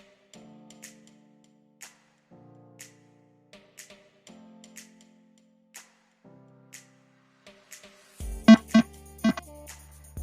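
A simulated buzzer in a circuit simulation of a Covid-19 thermometer project sounds with code 220, giving faint, separate low tones with pauses between them, then a louder, sharper burst of tones near the end.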